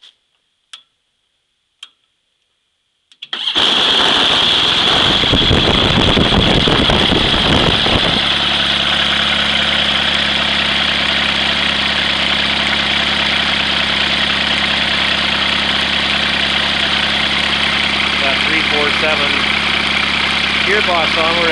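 An HKS aircraft engine with a gearbox and three-blade prop starts up on a test stand after a few faint ticks, then runs loud and steady at a smooth, even drone.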